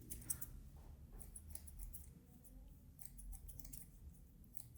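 Thinning scissors snipping hair during a fade haircut, a run of quick, light metallic snips in irregular bursts, close but soft, with a low background hum.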